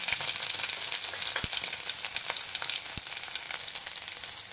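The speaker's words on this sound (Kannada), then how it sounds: "ಈಗ ಸಿಡ್ಲಿಕ್ಕೆ ಕರಿಬೇವು ಹಾಕ್ತೀನಿ ಸ್ವಲ್ಪ." Curry leaves with crushed fresh ginger and garlic crackle and sizzle in hot oil for a potato palya, a dense continuous frying hiss broken by sharp pops, close and steady.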